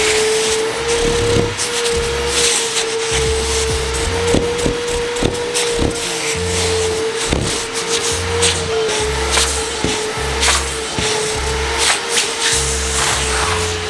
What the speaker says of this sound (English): let me vacuum it to get any crap off.